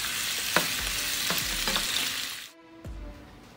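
Shrimp stir-frying in a wok give a steady hiss of sizzling oil with a few sharp spatula scrapes and clanks, close and clear; the sizzle drops away near the end before one last clank.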